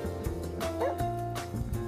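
Dog barks and yips from The Sims 2 Pets video game trailer, a few short bursts over a dense backdrop of trailer music.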